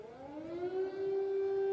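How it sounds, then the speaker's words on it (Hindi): Air raid siren wailing over Kyiv, a single rising tone that climbs and then holds at a steady pitch, heard from a distance. "एयर रेड सायरन्स जो हैं वो आपको इस समय सुनाई दे रहे हैं।"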